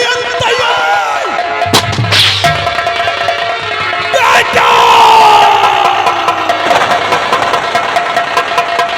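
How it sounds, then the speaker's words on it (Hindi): Several sharp gunshot cracks ring out amid a busy, noisy scene with a low engine rumble and crowd clamor in the background. "ये आवाज गोलियों की कहाँ से आ रही है यार?"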